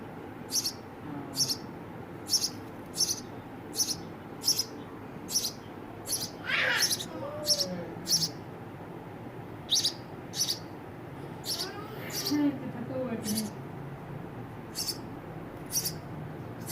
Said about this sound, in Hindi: ये बस एक ही रहेगी हमारे पास चिड़िया बेचारी।